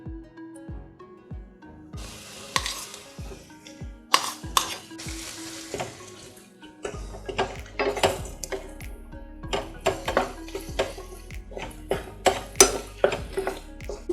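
Boiled, mashed potatoes are tipped into sizzling samosa masala in a pan and stirred, with a spoon knocking and scraping against the metal in quick, close clatters over a soft frying hiss.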